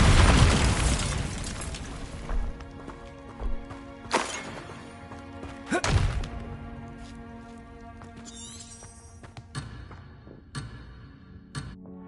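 Bombarda blasting spell in Hogwarts Legacy, a loud explosive boom at the start followed by a few more sharp blasts and crashes spread over several seconds beneath ringing magical tones and game music.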